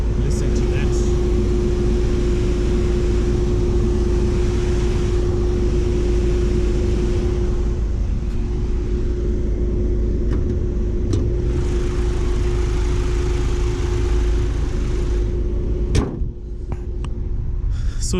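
An overheating Mazda CX-5 engine with a cooling problem drones loudly inside the cabin, a steady mechanical hum with a sustained tone that goes on and on, ending with a brief knock.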